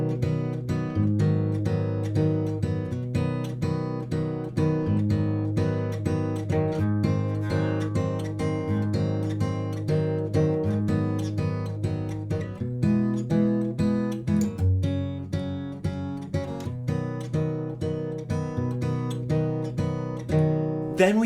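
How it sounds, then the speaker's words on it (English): Acoustic guitar fingerpicks the verse chord progression of a song in a steady, repeating picking pattern, clear and close with no voice. "So the verse will sound like this."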